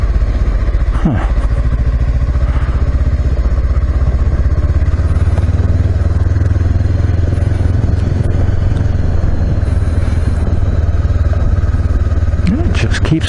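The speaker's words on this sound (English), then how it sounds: "This third gear lugging along is really cool." A Honda CB500X motorcycle engine lugs along in third gear, a loud steady low drone with mechanical clatter and wind rush running continuously throughout.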